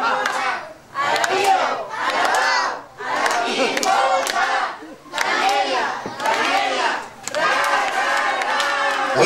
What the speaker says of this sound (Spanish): vamos a brindarle la primer gran fuerte porra de la noche